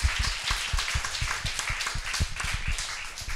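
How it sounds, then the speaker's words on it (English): An audience at the end of a climate-change panel discussion hosted by Foundation Weir claps steadily, a dense, close run of individual hand claps with no voices over it. "we give a very warm applause for Foundation Weir for hosting this"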